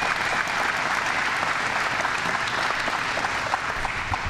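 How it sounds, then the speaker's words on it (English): Crowd applause for Gary Douglas at an announcement about transforming the Whiteface and Gore ski resorts: a thick, sustained roar of many hands clapping, uniform and unbroken throughout. "I want to applaud you for that,"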